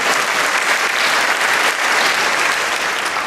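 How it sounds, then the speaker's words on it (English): Audience at a Santa Fe convocation ceremony breaking into steady, loud applause, a dense wash of many hands clapping evenly with no pauses. "Now you can clap for that"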